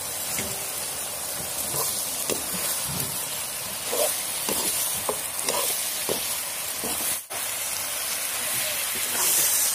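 Ginger, garlic and chili paste sizzle loudly in a hot pan. A steady, close frying hiss runs throughout, with occasional scrapes and knocks from stirring.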